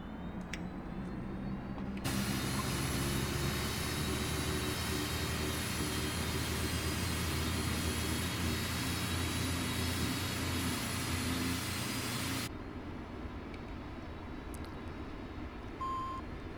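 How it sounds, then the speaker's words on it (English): Saab 340 turboprop engine starting in the X-Plane 12 flight simulator: a loud, steady broadband roar with a sustained high whine rises abruptly, holds for about ten seconds, then cuts off sharply to a quieter background hum. "The engine seems to start."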